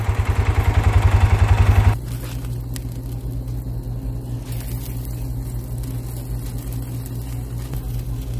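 A go-kart engine idling outdoors, with a loud pulsing throb for about two seconds before it drops to a lower, steady running hum that continues to the end.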